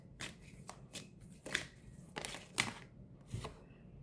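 Tarot cards are shuffled by hand up close in several quick riffling bursts with short pauses between, soft papery flutters and taps in an otherwise quiet room.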